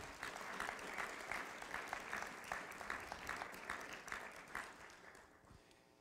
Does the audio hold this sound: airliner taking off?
no